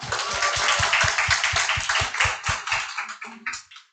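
An audience at a group meeting claps in a steady, loud burst of applause with sharp individual hand claps, thinning out and fading toward the end.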